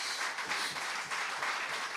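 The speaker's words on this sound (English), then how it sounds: "Give our ministers of health a round of applause" An audience at a prime minister's forum applauds the ministers of health in a brief, even burst of clapping from a crowd, heard at a modest, somewhat distant level.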